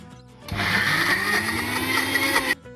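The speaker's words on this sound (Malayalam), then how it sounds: "മിക്സി ഒന്ന് കറക്കുക." A mixer grinder whirs through grated coconut in one loud burst of about two seconds, spinning up sharply, holding a high motor whine, then cutting off abruptly.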